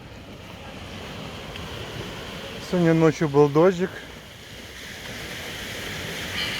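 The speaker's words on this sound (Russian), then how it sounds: "Посмотрите, какое чистое, спокойное море." Calm sea washing onto an empty sunny beach with warm water and damp sand, a steady soft surf hiss running throughout while someone speaks briefly in the middle.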